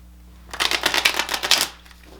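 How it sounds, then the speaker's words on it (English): Tarot cards riffle-shuffled close up, a dense burst of crisp papery flutter lasting about a second in a quiet room. "One more shuffle."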